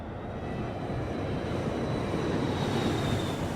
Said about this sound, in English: As the plane descends